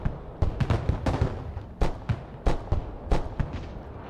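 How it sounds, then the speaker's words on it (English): In the real-time strategy game Broken Arrow, tanks and armored personnel carriers are destroyed amid a steady series of sharp explosions and gunshots, roughly a dozen irregular booming cracks spread evenly, fairly close and loud. "Sorry guys, I'm blowing up the tanks."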